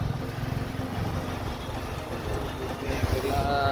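A motorcycle ride on the trip from Islamabad to a village, with a constant low engine rumble and wind noise running throughout, loud and steady.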